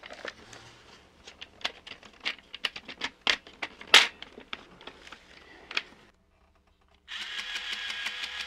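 A vintage TOMY Trip Over Traps toy obstacle course rattles with a run of quick clattering clicks and taps as its motor drives the pieces into position, falls briefly silent, then gives a steady buzzing motor whir.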